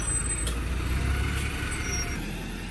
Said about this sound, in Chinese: 你看这个公交车进站了